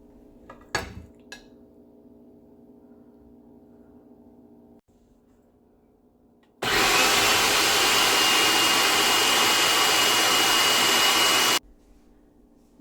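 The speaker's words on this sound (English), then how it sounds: "add them into a food processor and blend them up for about 5" A food processor whirs loudly for several seconds, steady and close, blending cooked chickpeas into hummus, preceded by a few clinks of dishes and a faint hum.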